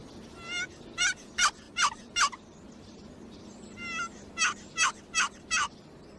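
A wild turkey hen calls excitedly in two quick bursts of four or five sharp, raspy yelps, close and loud over a quiet outdoor background.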